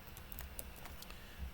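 Typing on a computer keyboard during a cloud resource-monitoring lab, a quick run of light, irregular key clicks close by with no talking.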